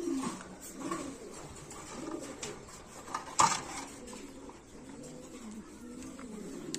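Soft, low pigeon coos roll along at moderate distance, broken by a sharp clack partway through, with faint background clatter.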